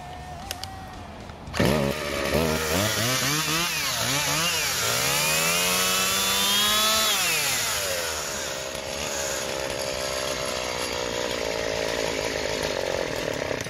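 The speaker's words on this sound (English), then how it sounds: "going to attack it with the chainsaw." A chainsaw starts up and runs loudly nearby, its engine revving up and down before settling into a steady high whine, as it is used on a guitar pick.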